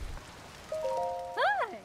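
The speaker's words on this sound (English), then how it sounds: "I imagine that this rain makes your work rather difficult." Steady rain falls in the video game Zelda: Tears of the Kingdom, a soft continuous hiss running under brief bright tonal game chimes.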